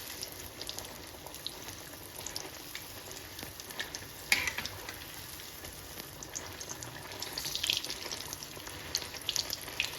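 Sweet pua frying in pure desi ghee, a steady close sizzle and bubbling hiss running continuously, with a few brief sharper crackles and spatters standing out.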